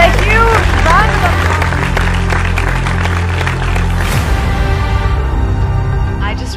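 Loud applause welcomes the chief guest onto the stage at a film school celebration event, a dense sustained round of clapping with crowd noise and some voices mixed in.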